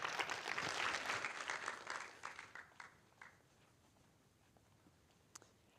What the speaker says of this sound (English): Let's give Mattia a round of applause.